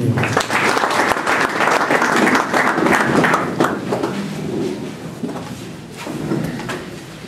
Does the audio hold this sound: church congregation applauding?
yes